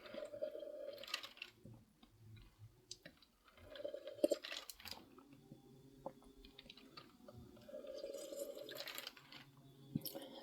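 Close, soft chewing of food with chia seeds, moist crunching and squishy mouth sounds coming in irregular bursts with short pauses, quiet and without talk.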